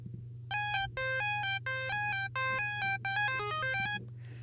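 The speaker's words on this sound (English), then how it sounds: "Now we're going to add a scream filter." A harsh, bright NI Massive synthesizer lead through a scream filter plays a sequence of held notes with a gritty, edgy tone over a constant low drone, no voices.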